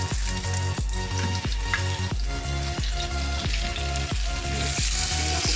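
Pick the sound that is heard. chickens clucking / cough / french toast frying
french toast frying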